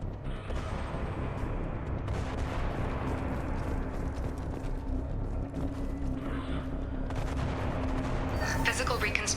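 Gunfire in the sci-fi shooter Mass Effect 2, dense bursts of shots and mechanical clatter over a low steady hum, continuous and fairly loud throughout, with a brief voice near the end.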